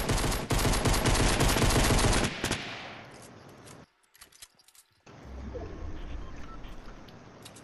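Rapid automatic gunfire from the video game Fortnite, loud and dense for about two seconds, then tailing off into quieter game ambience with a brief silent gap.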